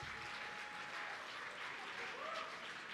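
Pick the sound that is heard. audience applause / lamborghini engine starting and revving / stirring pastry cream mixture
audience applause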